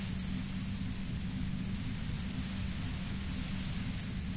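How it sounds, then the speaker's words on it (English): Dense, steady white-noise static from the game Disco Elysium, a loud broadband hiss with a low rumbling layer that holds unbroken throughout, with no voices. "You hear through the white noise"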